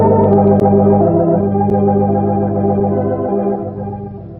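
An organ plays Song of India on an old radio broadcast, a dense, continuous sustained chord texture filling the whole stretch at steady loudness with a slight fade near the end.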